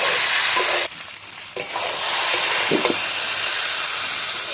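Bhetki fish bones frying in a pan, a loud, dense hiss of sizzling oil with brief dips and a few soft scrapes as the bones are stirred, close and continuous.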